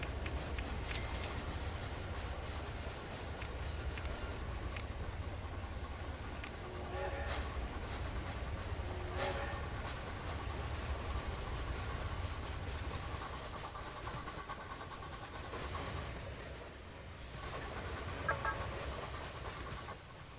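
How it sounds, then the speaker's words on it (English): An iron ore train in the railway game Locomotion rolls past with a continuous rumble and clatter of wagons, steady and fairly close, while faint bird-like clucks chirp intermittently over it. "There goes the other iron ore train there."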